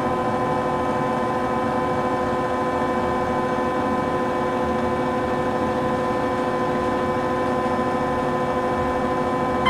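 An Otis Series 1 hydraulic service elevator in the Spellmann Center at Lindenwood University runs with a steady, droning mechanical hum and whine. The noise is close and constant throughout, with no talking.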